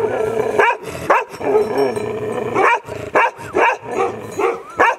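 A Bhote dog, a Nepali flock-guarding breed, barks repeatedly and loudly nearby in short bursts with throaty edges between barks.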